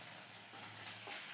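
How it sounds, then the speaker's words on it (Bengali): Spice paste fries in hot oil for an egg curry, giving a faint, steady sizzle with soft crackling close by. "ততক্ষণ এটা লাল লাল করে একটু ভেজে নেওয়া হোক।"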